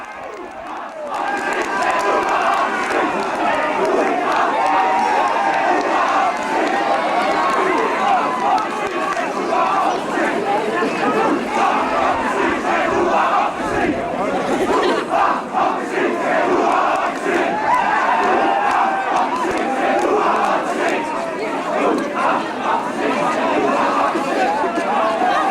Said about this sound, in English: With a large crowd gathered at the corner, and the prize for all to see